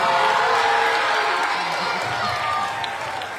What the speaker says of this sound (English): I want to hear everybody roaring with cheer.